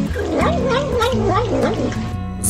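A cat meows in a short, warbling, repeated cry, loud and close, mixed with voice-like sounds that may be a person imitating the meowing.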